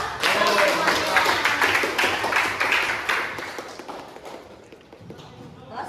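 A school class claps hands in dense, steady applause that gradually fades toward the end, with faint voices underneath.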